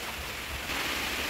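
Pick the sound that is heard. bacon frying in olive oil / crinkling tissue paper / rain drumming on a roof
rain drumming on a roof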